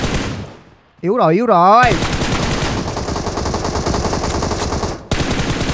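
Automatic gunfire rattles in the video game PUBG Mobile, with sustained loud bursts of rapid shots after a short spoken exclamation, continuing to the end with a brief break.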